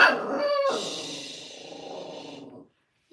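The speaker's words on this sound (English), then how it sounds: "Sorry, it's my dog." A pet dog barks and yips indoors at someone it has noticed, a short sharp burst followed by a fading whine-like tail, fairly close and alone without talk.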